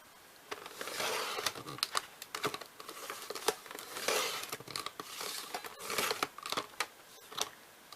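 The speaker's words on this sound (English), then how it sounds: "I'm going to line it up and I'm just going to trim that excess." Cutting excess thick glitter card stock with a blade or trimmer, a close series of scraping, crinkling strokes and sharp clicks repeated back and forth, with no voice.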